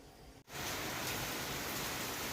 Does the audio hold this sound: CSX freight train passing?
no